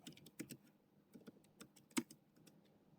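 Keys on a computer keyboard are tapped in quick, irregular bursts, with close, crisp clicks and one louder keystroke midway, in an otherwise quiet room.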